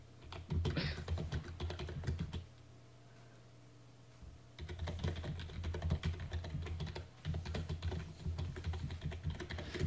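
Rapid keystrokes clatter on a computer keyboard in dense bursts, pausing for a couple of seconds before resuming, with a steady low hum running underneath and no talking.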